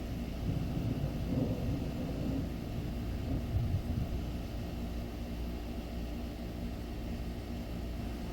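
Thunder from a late-summer storm rumbles low and continuously for several seconds, a deep rolling roar with slightly louder swells early on, distant and unbroken.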